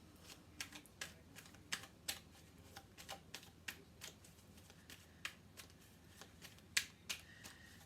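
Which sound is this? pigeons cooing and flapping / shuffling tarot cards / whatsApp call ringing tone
shuffling tarot cards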